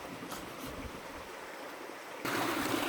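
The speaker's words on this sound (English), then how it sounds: "giving it a bit more of a rinse off in the river" River water flowing steadily while muddy rhizomes are rinsed in it, a constant close rushing wash that grows louder and brighter near the end.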